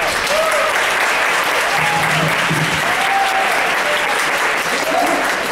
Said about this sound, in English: So if you could please, initial round of applause.